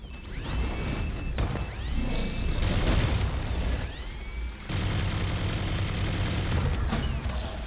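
A video game gun whirs up with rising whines, then fires in dense bursts of rapid mechanical rattling, repeated several times with short pauses between.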